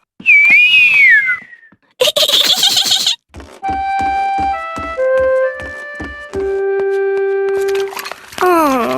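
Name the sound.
person whistling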